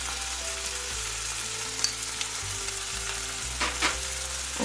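Bata fish coated in turmeric and red chili powder fries in hot oil, a loud, continuous close sizzle with a few sharper pops and clinks and a low steady hum beneath, no voices.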